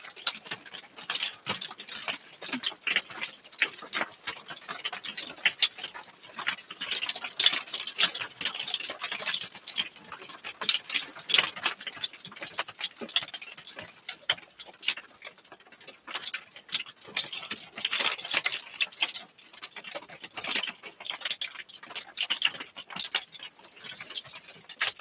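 Hail falls as dense, irregular ticking and pattering that rises and eases in waves, steady and close for the whole stretch with no talking.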